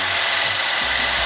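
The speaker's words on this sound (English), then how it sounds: "I'm going to pre-drill them for the screws." A power drill pre-drills screw holes in wooden window trim pieces for a tiny house, a steady close whirring hum running the full moment with a slight shift in pitch near the end.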